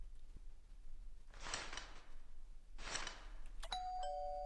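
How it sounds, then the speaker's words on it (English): Two chimes of a doorbell ringing in the horror game Midnight Monitor Anomaly Watch, each a bright two-part ding-dong with a soft tail, then a short electronic beep tone at the end; no talking. "now you want to ring the doorbell?"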